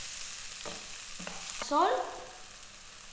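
Chopped tomatoes and leftover idli are sautéed in a pan for idli upma, with a soft continuous sizzle, a few spoon taps against the pan and a louder burst of frying midway, while one word is spoken briefly.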